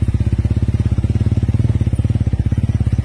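A motorized tricycle engine runs steadily nearby, its rapid, even putter of exhaust pulses continuing without a break on a rural farm road.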